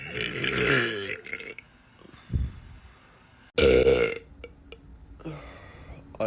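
Loud, drawn-out burps from a young man, several in a row with pauses between them, some long and rumbling and others short, with brief noises and a little talk mixed in.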